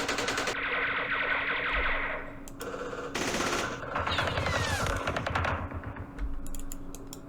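Sustained gunfire and explosive bursts in a Vietnam war strategy game set at the 1968 Battle of Pleiku, with mortar fire among rapid repeated shots and blasts that swell and fade in several loud waves, no talking.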